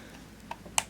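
A Sears TLS 35mm film SLR camera body fires its shutter at 1/1000 s, two crisp mechanical clicks in quick succession, close and fairly quiet, the second one sharper.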